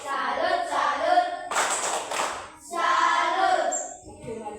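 Schoolchildren in a fifth-grade Indonesian classroom chant together and break into a short burst of rhythmic group clapping for a salute, the claps loud and close between stretches of chanting voices.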